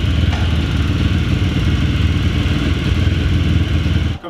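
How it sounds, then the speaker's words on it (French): Two YCF pit bikes, a Biggy 150 Factory and a 190 Daytona, idle together in a steady, loud, close-up mechanical drone with clattering engine texture, cutting off abruptly at the end. "Vous avez le son des deux bécanes les gars."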